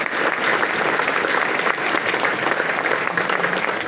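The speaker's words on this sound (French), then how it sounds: "J'aimerais qu'on applaudisse Mona." Guests at a municipal New Year's greetings ceremony in Aulnay applaud, a dense, even wash of clapping that holds steady for several seconds with no talking.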